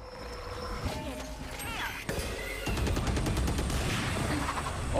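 A heavy gun fires in the Valorant video game: after some quieter game sounds, rapid sustained bursts of shots ring out loud and close, with some speech in the background.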